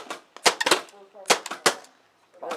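A paintball marker loaded from a Zetamag magazine fires a quick series of sharp pops in small bursts, close and crisp, with short pauses between groups of shots.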